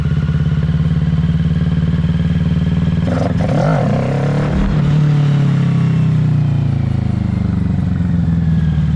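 A 2020 Kawasaki Ninja 650 motorcycle engine drones steadily while riding, a loud low hum with a brief rattling, clattering surge in the middle before settling back.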